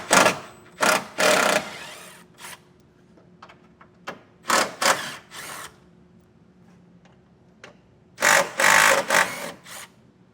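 Power driver backing out four T30 Torx bolts during a Blue Ox base plate install on a 2013 Fiat 500: several loud, close whirring bursts of varying length separated by pauses, with faint clicks and handling between them.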